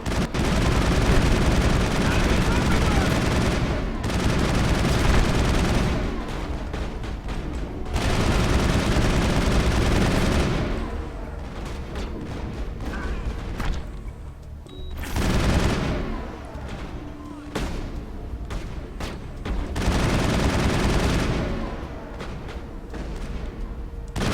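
Loud, dense gunfire from a Mass Effect battle, with long sustained bursts of rapid shots broken by brief pauses and occasional voices.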